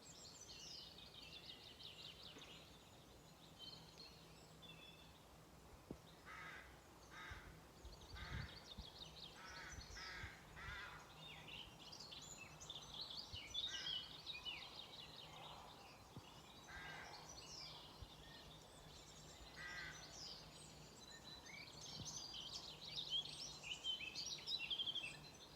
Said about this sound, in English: The bird song is orchestral, isn't it?